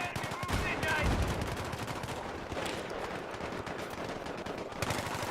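Rapid rifle fire from the AN-94 in the Battlefield 3 video game, several quick bursts of shots over continuous battle noise, moderately loud with a brief louder burst near the start and another at the end.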